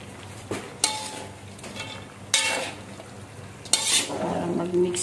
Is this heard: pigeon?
no